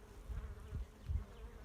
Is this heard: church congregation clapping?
no